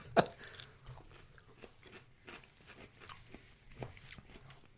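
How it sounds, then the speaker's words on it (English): Crunchy Dunn's pickles being bitten and chewed up close, one loud crisp bite at the start followed by soft, steady chewing sounds with faint shuffling and no talk. "We're just eating pickles."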